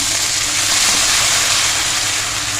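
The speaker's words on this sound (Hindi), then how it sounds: "ये लें जी, प्याज हमारा गोल्डन हो गया। इसमें थोड़ा सा पानी डालेंगे" Water poured into a pan of golden fried onions, a loud, dense, continuous hiss of steam and sizzle that stays even for the whole short stretch, close up.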